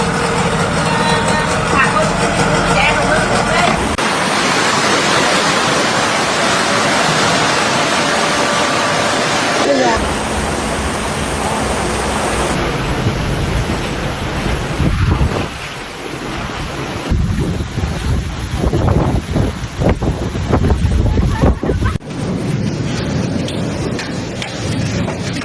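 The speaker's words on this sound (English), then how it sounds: "Ở Huế đang mưa to và gió rất to nha cả nhà nhá." Heavy typhoon rain and strong wind in Hue, central Vietnam: a loud, roaring downpour with gusts buffeting the microphone and occasional low rumbles, cut into several abrupt segments, with voices at times.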